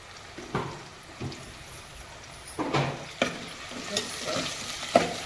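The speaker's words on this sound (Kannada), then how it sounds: "ಇದು ಫ್ರೈ ಆಗಲಿ. ಫ್ರೈ ಆಗ್ತಾ ಇರಲಿ." Food frying with salt in a pan makes a steady close sizzle, punctuated by a regular series of scraping stirs roughly every half second to second, with no talking.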